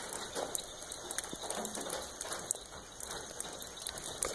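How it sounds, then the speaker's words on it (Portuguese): Steady rain patters on a surface with scattered drops, a constant soft wash of noise, with insects chirping faintly in the background. "Olha, tá chovendo aqui"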